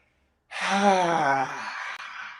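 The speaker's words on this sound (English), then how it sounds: "Breathe in, relax, come up. Exhale on high." A single deep, voiced exhale during a guided breathing exercise, starting abruptly after silence and trailing off into a breathy, airy release, close and fairly loud.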